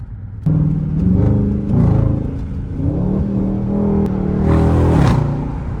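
A Dodge Charger V8 with straight pipes pulls hard from inside the cabin, its loud rumbling exhaust climbing through several rising revs and gear shifts, deep and close.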